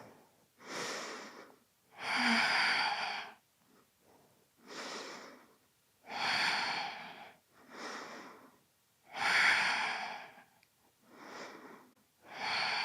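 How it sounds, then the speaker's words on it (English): Slow, deep breaths taken while holding a yoga side plank, about eight loud, close airy breaths in a steady in-and-out rhythm with short silent gaps between, and no talking. "Breathing here."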